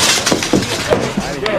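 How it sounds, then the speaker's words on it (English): Glass breaks with scattered crunching and clinking in a period adventure drama, mixed under voices. "They have to break the glass."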